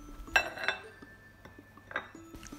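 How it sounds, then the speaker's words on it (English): A fork works melted butter into a sugar and cinnamon crumb topping for whole wheat banana nut muffins. A few sharp metallic clinks against the bowl stand out, then scattered softer scrapes in a quiet kitchen. "Mix it together with a fork."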